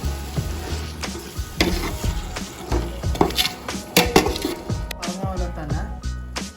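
Biryani ingredients sautéing in a pan while being stirred, with soft sizzling under irregular scrapes and clinks of a spoon against the metal, close and moderately loud.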